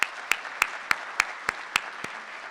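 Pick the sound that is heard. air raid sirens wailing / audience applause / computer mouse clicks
audience applause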